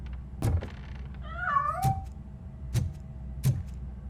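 A cat meows in the video game RoboCop: Rogue City, one wavering cry in the middle, set among several dull thumps and a low background hum.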